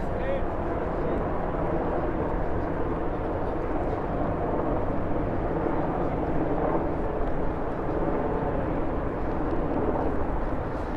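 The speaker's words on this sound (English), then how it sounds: "Very loud helicopter to our right." A loud helicopter flies nearby along the Hudson River in New York City at sunset, its steady rumbling drone filling the air throughout without pause.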